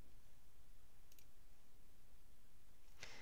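A computer mouse gives two faint, isolated clicks about two seconds apart against a quiet, hissy background while emails are opened in an archiving program.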